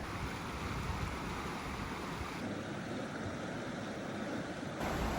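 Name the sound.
water at Lake Tahoe campsite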